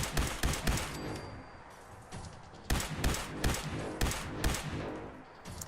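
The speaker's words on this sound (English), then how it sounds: "They're already shooting." Enemy gunfire during a random encounter in Fallout 4: bursts of loud shots in quick clusters, pausing briefly before resuming in rapid volleys.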